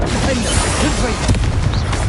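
Confringo blasting curse in Hogwarts Legacy bursting with a sharp, loud boom and crackling debris, a quick explosive hit followed by scattered pops, with game voices faintly in the mix.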